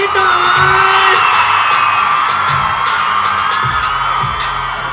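A large crowd of fans at a BamBam world tour press conference in Bangkok screams and cheers loudly and continuously, high-pitched shrieks layered with whoops and occasional bangs, close and intense.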